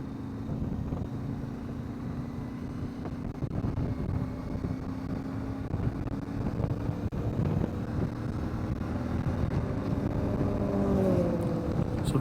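Adventure motorcycles ride through the historic main street of the old mining town of Eureka, Utah, a continuous low engine drone with steady wind rush across the microphone and a slight rise in engine pitch near the end.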